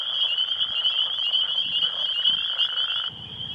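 Northern leopard frogs call from a roadside wetland in a steady chorus, dense rattling croaks layered together at close to moderate range with no speech.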